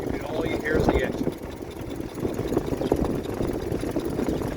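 A 1925 Ford Model T engine idles and runs with a steady, rough mid-low mechanical churn, close by and continuous, with some faint background voices.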